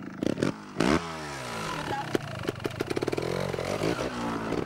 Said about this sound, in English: Start your engine, good luck.